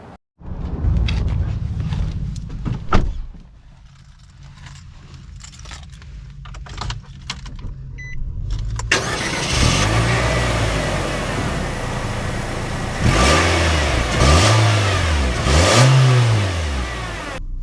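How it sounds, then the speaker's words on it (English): A 2024 Nissan Versa, a base-model small sedan, with keys jangling and a brief starter crank, then its engine idling and revving as it pulls away, with rising and falling acceleration sweeps loud and close, no talk. "Let's see how it drives."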